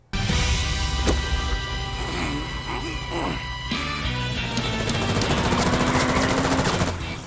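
Gunfire from a James Bond vs John Wick animated death battle, dense and loud, with rapid bursts, impacts and crashes layered over a continuous action score for several seconds.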